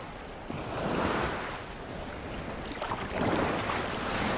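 Sea waves breaking and washing on Dover Beach on a sunny morning, a steady loud roar of surf with swelling surges and wind buffeting the microphone, no voices.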